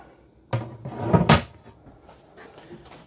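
Full-extension ball-bearing guided drawers in a 2024 Salem FSX 178BHSK bunkhouse camper slide open and shut: a sharp thump, a short rolling rattle, then another knock, close and fairly loud, with no talking.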